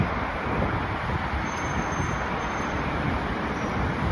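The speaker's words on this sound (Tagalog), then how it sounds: "mahangin lang ngayon." Steady, loud wind roaring into the microphone for the whole stretch, a dense rumble with no pauses or voices.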